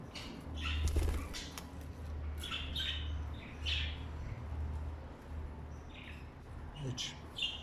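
Pet bird squawking and chirping in short, scattered bursts during weekly cage cleaning, fairly faint over a low background hum with handling noises.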